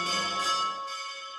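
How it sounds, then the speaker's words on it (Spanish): Church bells ring out at an Easter Vigil in Jerusalem, a bright sustained metallic tone with overlapping strikes fading slowly, heard alone without voices. "Las campanas resuenan"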